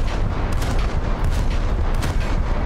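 Naval guns on an Albatros fast attack craft in War Thunder fire as a loud, dense, continuous barrage of booming blasts, close and overpowering, with no speech.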